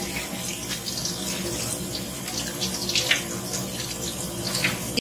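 Poha flakes rinsed in a sieve under a running kitchen tap: a steady, fairly loud stream of splashing water that continues without a break, with no talking.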